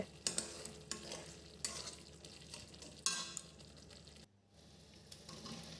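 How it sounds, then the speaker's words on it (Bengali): Soybean and spice masala being stirred and fried in a pan, with steady sizzling and repeated scraping strokes of a spoon, close and clear, a brief pause near the end before the frying resumes. "নাড়িয়ে সুন্দর করে একটু কষিয়ে নেব"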